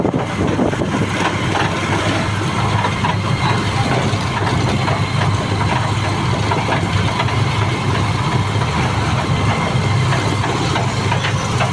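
A motorcycle engine idles steadily nearby with a low, constant rumble and no talking.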